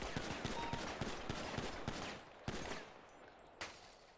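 Rapid gunfire from a pistol at a police academy firing range in the GTA V NoPixel roleplay game, a dense run of sharp shots for several seconds tapering to a few isolated reports near the end.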